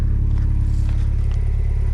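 A turbocharged Mazda Miata crawling off-road over rocks, heard from inside as a loud, steady low engine and road rumble with faint scraping and crackling from the tires.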